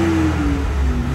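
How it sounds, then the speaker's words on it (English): A 1992 Lotus Carlton's straight-six engine revs at idle, a steady mid-pitched hum with a slightly falling tone, close and fairly loud throughout without any talking. "Paul, do you want to give it a rev?"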